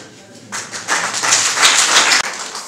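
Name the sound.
applause at a wedding ceremony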